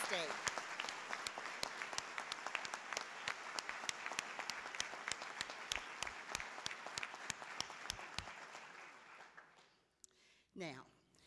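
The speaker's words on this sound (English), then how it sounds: "Let's just give state employees a rousing hand of applause" Sustained audience applause for state employees at a state governor's awards ceremony, dense crowd clapping with crisp individual claps up close that carries on for about nine seconds, then stops and a voice begins.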